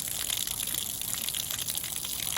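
Water gushes in a steady, loud, unbroken rush as an LG washing machine drains after its drain motor was repaired.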